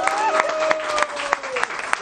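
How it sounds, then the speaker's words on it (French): Audience applause after a performance by a band on a TV set, a moderate burst of clapping with a steady clatter of hands, overlapped by a voice speaking. "on peut l'applaudir"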